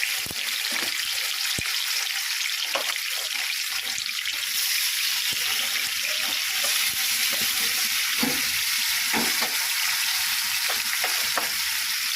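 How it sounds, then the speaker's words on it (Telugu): Korramenu fish pieces frying in hot oil in a pan, a steady broadband sizzle throughout with occasional stirring clinks and sharper pops, close and fairly loud, no talking. "చేపల ముక్కలు చిన్నగా పెట్టుకొని గోలించుకోవాలి"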